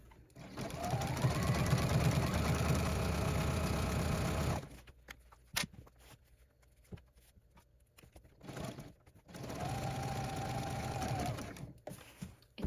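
A sewing machine stitches satin binding onto a stretch fleece blanket, running in two steady bursts of rapid needle hum with a quiet pause of handling noises between them.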